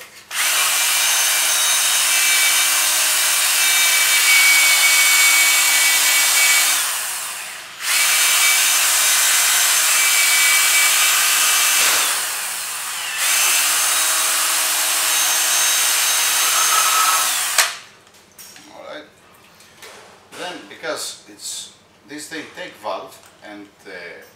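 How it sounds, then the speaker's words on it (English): An engine intake or exhaust valve spun by a power tool against 800 grit sandpaper, giving a loud, steady whirring grind in long runs with short pauses, followed by close talking. "I'm still on the 800 sandpaper"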